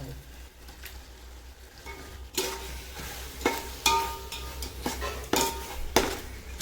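Chicken pieces being sautéed for chicken biryani, with a spoon scraping and clinking against the pan at irregular intervals over a soft background sizzle, with no voices.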